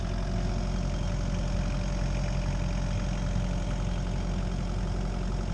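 A Kubota KX027-4 mini digger idles steadily nearby, a constant low diesel rumble with a mid-range engine hum and no break or change in pace throughout.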